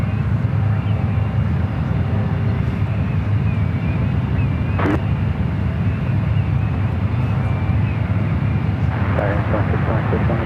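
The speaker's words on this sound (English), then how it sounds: "Another United 737." A United Airlines Boeing 737 at San Francisco airport makes a steady broadband engine roar that stays loud and constant throughout, with wind buffeting the microphone.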